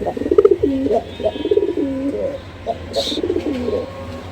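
Two pigeons coo in a loft, a run of soft repeated rolling coos close by, with faint chirps and a brief high squeak partway through.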